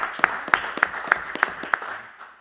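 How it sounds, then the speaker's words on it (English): An audience at a PhD defence gives brief applause, with a few clear, evenly spaced claps that fade out after about two seconds. "I think you should deserve an applause for that."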